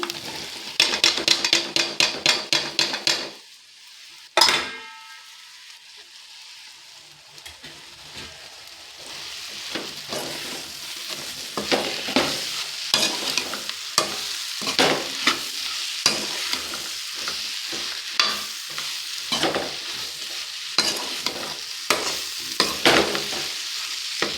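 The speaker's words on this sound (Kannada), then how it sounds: "ಇದು ಈ ಥರ ತಳ ಬಿಡೋವಾಗ ನಾನು ಮರಗೆಣಸನ್ನ ಹಾಕ್ತೀನಿ." Cassava pieces are stir-fried in a hot pan, with steady sizzling and frying under repeated stirring and scraping strokes; a sharp clatter comes near the start, followed by a brief quiet spell before the sizzle picks up again.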